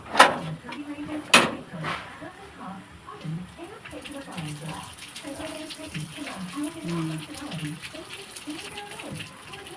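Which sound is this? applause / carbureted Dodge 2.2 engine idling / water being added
water being added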